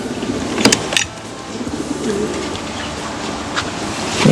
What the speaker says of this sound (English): we have our birds, starting with the flight cage